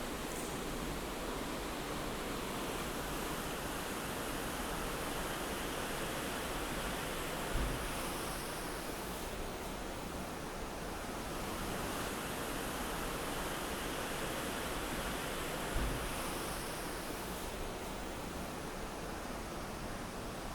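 A river flows below a wrecked train in the woods, heard as steady broadband rushing water at constant level throughout, with no voices.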